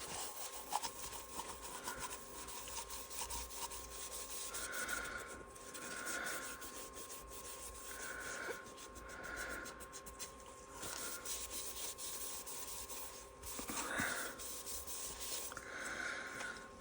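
Gentle rubbing and buffing on a small eco-resin snowman storage pot, a soft, steady scratchy friction with faint repeated strokes, quiet and close, no talking.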